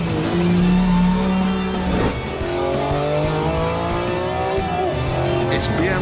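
BMW car driven fast, a loud engine note rising and falling through revs with tire squeal, close and sustained, with someone talking over it.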